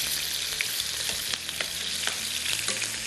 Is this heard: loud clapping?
no